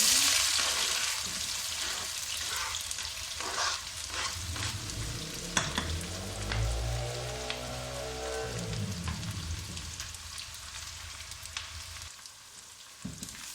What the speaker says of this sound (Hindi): प्याज को हम हल्का फ्राई कर लेंगे।